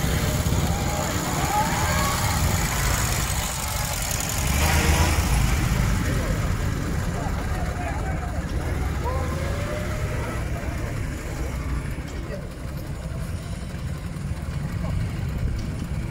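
A vintage motorcycle idles and runs at the start of a vintage motorcycle rally in Pisz, a steady low engine rumble with crowd ambience while someone talks over it.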